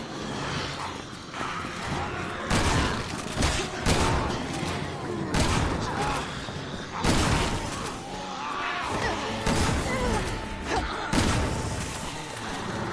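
Shotgun blasts in the video game Resident Evil 6, a series of loud sharp bursts at irregular intervals over busy combat noise and effects, with a voice talking between shots.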